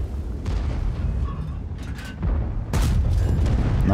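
A tank cannon shot in the video game World of Tanks, one heavy booming blast rising out of a low rumbling engine drone, followed by a second loud impact near the end.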